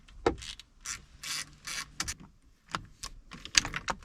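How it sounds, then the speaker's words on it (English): Small screws are driven back in by hand on a 2010 Ford Escape, giving scattered close clicks and ratcheting ticks in short irregular bursts with quiet gaps between them. "Let's put all these little screws back in."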